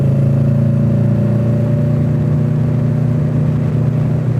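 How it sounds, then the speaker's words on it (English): Heavy construction machinery engines, from excavators, skid steers and a bulldozer on a building site, drone loudly and steadily with a low rumbling hum that holds throughout, with no talk. "There's 1 bulldozer, 6 excavators."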